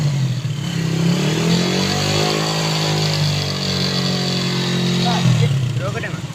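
A Honda CB 125 motorcycle engine revs up and holds at raised speed for several seconds, then drops back, loud and close, with someone talking over it.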